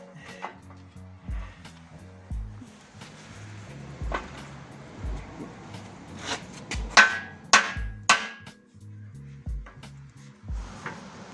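Scattered metallic knocks and taps, then a quick cluster of louder hammer strikes while fitting a beam under an Audi 80 Avant Quattro, in a quiet workshop with low background hum and no speech.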